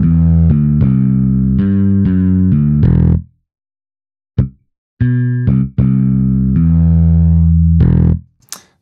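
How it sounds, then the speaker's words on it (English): Electric bass line pushed into harsh digital clipping distortion in a mixing demonstration, playing short repeated notes with abrupt gaps of silence between phrases, loud and buzzy. "it will help us really hear the distortion that happens upon digital clipping"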